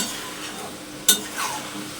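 Meat fries in a pan with a soft, steady sizzle, broken by one sharp scrape of a utensil and a brief stirring rustle; close and alone, with no talking.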